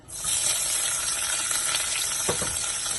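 Onions hit hot oil for cabbage pulao, and a loud sizzle bursts up at once and holds as a steady, bright hiss, with a brief stir near the end.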